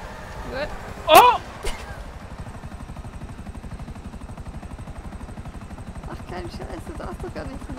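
A helicopter in a GTA roleplay game thrums with a steady, rapid rotor chop throughout, while a voice and a sharp clatter break in near the start over the continuous engine drone.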